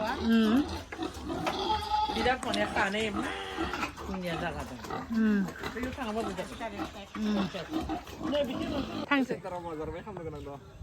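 Pigs grunt and squeal at a village pig farm, close and frequent beneath steady conversation between people nearby.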